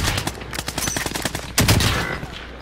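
Rapid automatic gunfire rattles in Call of Duty Warzone, a dense burst of close shots followed by a heavier blast and continued firing.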